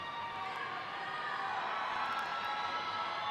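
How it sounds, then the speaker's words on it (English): A roller derby crowd at a Toronto bout roars in a steady, loud, continuous wash of cheering voices with no break. "You can hear the roar of the crowd."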